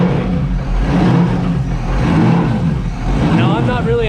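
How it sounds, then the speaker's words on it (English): A V8-powered jet ski engine runs at idle on a hose, its low rumble rising and falling in an uneven surge while a voice speaks over it. "We have this idle surge, and that's idle air tuning."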